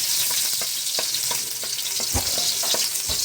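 Garlic sautéing in a pan while cooking Filipino adobo of chicken liver and gizzards, a dense close sizzle broken by repeated spatula scrapes and clanks against the pan, with no talking.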